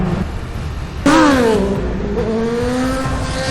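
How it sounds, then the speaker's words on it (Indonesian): A sport motorcycle in an action film revs hard and loud, its engine pitch rising sharply then easing into a steady high drone over a few seconds, with no talk. "Daeho memacu motor sportnya"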